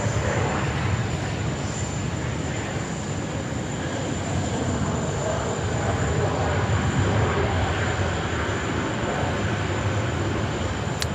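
An airliner lines up on runway 16 right at Sydney Airport, heard as a constant broad engine roar with a thin steady whine, continuous and fairly loud for the whole stretch.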